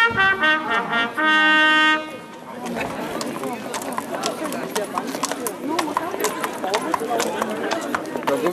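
Horse hooves clip-clop steadily through a busy crowd at a historic princes' gathering in Jüterbog, with people chattering throughout, after a brief held musical tone opens the scene.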